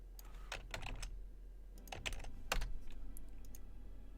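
Close, quiet typing on a computer keyboard: scattered clusters of sharp key clicks with short gaps, one slightly louder burst in the middle, nobody speaking.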